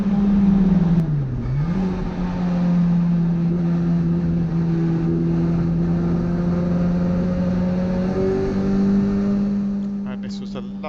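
A race car on the Brands Hatch circuit during a track day gives a loud, droning engine note that dips briefly at a gear change, holds steady, then climbs in pitch.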